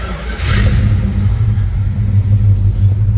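A 1969 Plymouth Road Runner's engine fires with a brief burst, then settles into a loud, deep, steady rumbling idle close by, with no voices over it.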